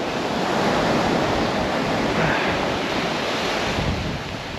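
Surf surges up a beach at Beesands in stormy, monsoon-like weather, a loud continuous wash of breaking waves with steady wind noise on the microphone and no voices.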